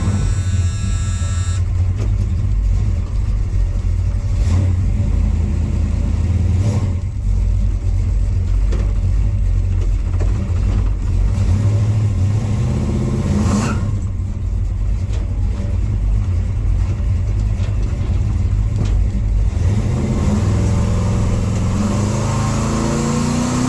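A truck with a suspected rear main seal leak, driving in second gear while its engine hums and revs, giving a loud, steady drone with repeated swells in pitch throughout.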